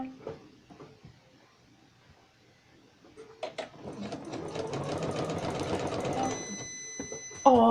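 Sewing machine with a faulty foot control, starting in short stuttering bursts before running steadily at moderate volume, with a person talking nearby.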